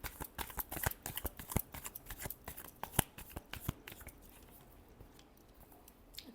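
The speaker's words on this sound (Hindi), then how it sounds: "Last shuffle." Tarot cards are shuffled by hand in a quiet room, a rapid run of soft riffling clicks and flutters that thins out and fades toward the end.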